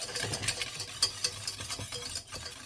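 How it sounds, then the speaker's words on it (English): Jelly mixture being whisked in a bowl for a cannoli bake, a steady run of quick scraping, swishing strokes at close range with no voices. "Get it in there and whisk so it dissolves"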